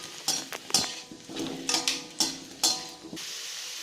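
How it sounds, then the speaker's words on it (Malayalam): Gooseberries roasting in a pan for pickle, with repeated metal spoon scrapes and clinks in an uneven rhythm over a soft constant sizzle, close and moderately loud. "നെല്ലിക്ക ഏകദേശം റോസ്റ്റായിട്ട് വരുന്നുണ്ട്. നമുക്ക് 1-2 മിനിറ്റും കൂടെ റോസ്റ്റ് ചെയ്തെടുക്കാം."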